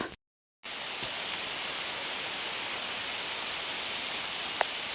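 Rain falls in a hillside forest as an even, soft hiss that runs steadily after a brief dropout at the start, fairly faint and without voices, with a couple of isolated drip-like ticks.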